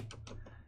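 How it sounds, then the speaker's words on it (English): A few quick computer keyboard keystrokes while code is typed into a Unity game script, faint and close over a low hum. "I'm going to type"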